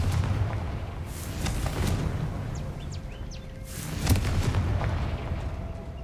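Blasting spell explosions in the Hogwarts Legacy video game: two loud booming bursts a few seconds apart, each with a sharp crack and rumbling tail over a continuous low background.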